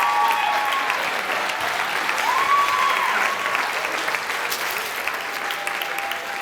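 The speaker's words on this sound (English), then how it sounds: "Give a round of applause for Trent." An audience at the WVSOM Follies 2015 stage show gives a performer named Trent a steady, full round of applause, dense clapping sustained throughout with a few faint whoops and crowd murmur mixed in.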